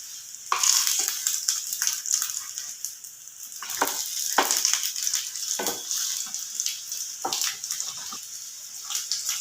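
Bread slices coated in egg fry crisp in a pan, giving a loud, close crackling sizzle with repeated sharp spitting bursts throughout and no voices.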